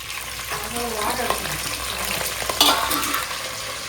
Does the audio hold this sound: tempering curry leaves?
yes